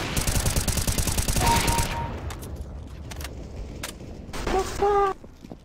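Rapid bursts of suppressed M4A1-S rifle fire in CS:GO, a dense rattling volley in the first two seconds, then sparse single shots and a short ringing burst near the end, close and loud.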